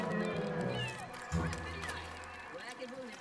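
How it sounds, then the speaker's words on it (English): A kitten in The Sims 3 meows in short, high cries amid game sounds and music, with a person talking over them. "He's got a cat, he's got a kitten."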